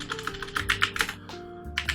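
Quick keystrokes rattle on a computer keyboard as a git pull command is typed, a close, irregular run of clicks with no talk.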